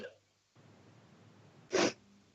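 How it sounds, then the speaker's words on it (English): A single sharp nasal burst, like a sniff or sneeze, stands out near the end against quiet background hiss. "Oh, sniffling away."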